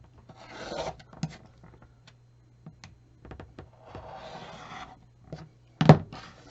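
Quilting fabric for a green appliqué stem being trimmed along a ruler: close, soft scraping and rubbing strokes with a few scattered light thunks, no voices.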